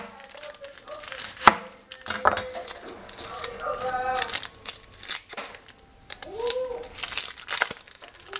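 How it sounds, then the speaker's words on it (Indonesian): Shallots being peeled by hand in a home kitchen, giving crisp papery crinkles and small clicks in uneven bursts, close and fairly quiet, with occasional clinks and brief voices in the background. "Pertama kita kupas dulu bawang merahnya."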